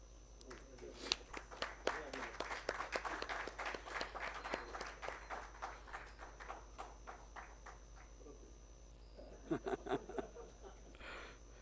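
An audience at an AESA honor ceremony claps for an engineer being called on stage, sparse individual claps quickly swelling into steady applause that tapers off, then a short second burst.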